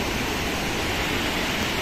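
Water rushing hard from the overflowing gate of Chinchali dam, a dense, steady roar with no voices over it.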